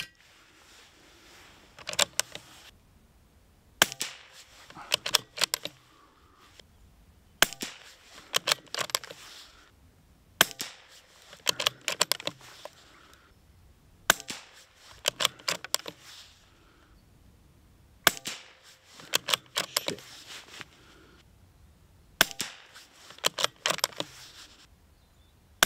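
Sharp, sharp cracks from a Bergara BMR .22LR rifle firing RWS subsonic ammunition, arriving in quick clusters of several shots separated by short pauses, with small mechanical clicks of cycling between, fairly close and dry.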